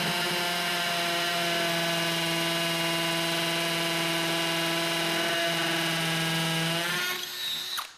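A cordless hammer drill with hammer action engaged bores into a concrete block, a loud, steady whine with a hammering buzz running for about seven seconds before spinning down, with no talking.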